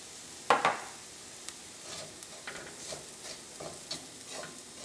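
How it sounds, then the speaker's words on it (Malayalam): Chilli and coriander powders fry in hot oil in a pan for a chicken dish, giving a steady sizzle with a sharp clink of a spoon near the start and soft scraping stirs after, with no voices. "അപ്പോൾ മസാലപ്പൊടികളെല്ലാവരും എണ്ണയിൽ കിടന്ന് നന്നായിട്ട് മുരിഞ്ഞിട്ടുണ്ട്."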